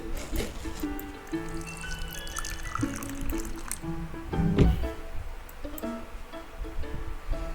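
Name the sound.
pouring water for instant noodles, video game Honkai Impact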